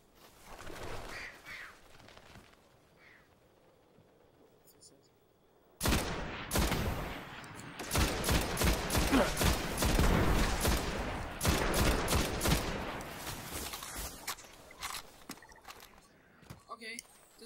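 Sustained automatic gunfire from a weapon in the video game Destiny erupts after a quieter stretch, loud dense bursts of rapid shots continuing for several seconds over game ambience, with a voice talking beneath.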